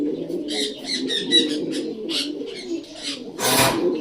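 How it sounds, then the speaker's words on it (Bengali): Pigeons kept in a home loft coo softly and steadily, low rumbling calls layered together, with a brief burst of wing flapping near the end. "দেখেন তো অসাধারণ কোয়ালিটির কবুতর"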